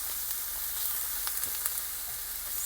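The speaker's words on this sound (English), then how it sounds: "now I'm just sauteing it in the pan with some mushrooms" Spaghetti squash sautés in a pan with mushrooms and a little pesto, making a quiet, even sizzle over a gas flame with faint stirring ticks.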